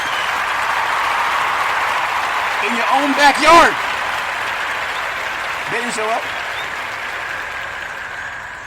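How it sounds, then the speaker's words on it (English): A sports crowd cheers in a broad, continuous roar heard from a distance while someone talks over it. "Cheering"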